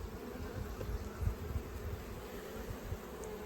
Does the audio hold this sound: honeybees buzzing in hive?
yes